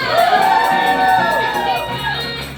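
A loud crowd at a children's birthday party cheering and shouting with high whoops, continuous and close, with no distinct clapping standing out.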